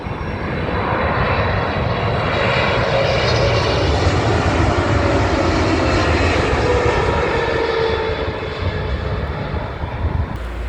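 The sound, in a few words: Qatar Airways Boeing 777 at London Heathrow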